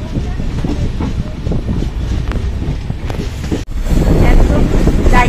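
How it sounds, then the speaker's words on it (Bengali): A passenger train pulls away and runs on, heard up close as a loud, continuous rumble and rattle of the carriages with wind buffeting the microphone. "একদম রাইট টাইমে 6:35 ট্রেনটা ছেড়ে দিল।"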